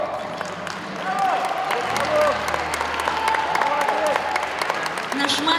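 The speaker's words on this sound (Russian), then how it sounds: "Давайте наградим аплодисментами." Audience applause at a meeting of the Chuvash Republic head with cultural workers, steady clapping throughout with tonal music or voices running underneath.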